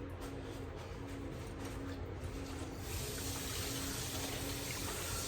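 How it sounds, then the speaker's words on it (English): Running tap water while hands are washed at a sink, a steady close rush of water that grows a little fuller partway through. "Let me wash my hands again."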